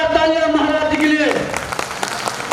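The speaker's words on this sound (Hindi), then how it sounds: "जोरदार तालियां महाराज जी के लिए।" Applause for Maharaj ji at a Prajapati community memorial gathering, a dense wash of clapping that starts over a sustained voice and carries on alone.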